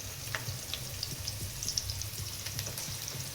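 Ginger garlic paste fries in a hot pan for a chicken fry, giving a steady close sizzle with scattered crackles and pops throughout, no voices over it.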